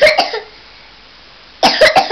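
A child coughs in two quick bursts, a short quiet pause, then another cluster of sharp coughs, close and loud.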